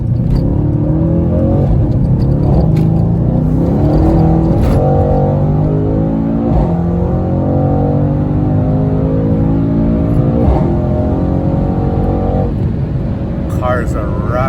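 A Mercedes-AMG car pulls out and accelerates with a loud, close engine note rising and falling through gear changes, steady under talking from inside the cabin.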